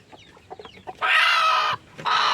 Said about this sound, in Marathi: ही पहिल्यांदाच कोंबडी फुटून उतरलेली आहे